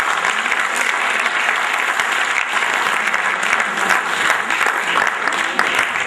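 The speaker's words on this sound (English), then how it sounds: "So what I request you to please clap for the management of Triple ITM." An audience at an institute's national HR summit claps for the management, steady dense applause filling the room at close range with some crowd murmur mixed in.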